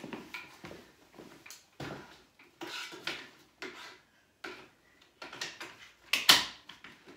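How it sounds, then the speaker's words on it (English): A Bugaboo Fox stroller seat unit being unclipped from its frame, heard as a series of plastic clicks, rubs and mechanical knocks at close range, with a sharper snap near the end and quiet gaps between handling noises. "Now we can finally click off the seat."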